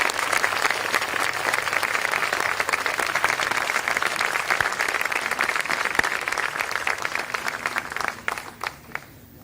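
A commencement crowd applauds after a song, sustained dense clapping filling the hall for several seconds before thinning to a few scattered claps at the end.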